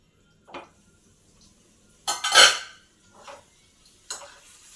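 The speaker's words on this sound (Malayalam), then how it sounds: "ഒന്ന് ഇളക്കി നോക്കാം" Food being stirred in a pot on the stove: a few sparse scraping and clinking knocks of a utensil against the pot, one longer scrape in the middle, close and otherwise quiet.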